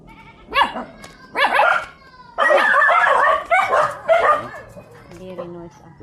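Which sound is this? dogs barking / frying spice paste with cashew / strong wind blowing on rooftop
dogs barking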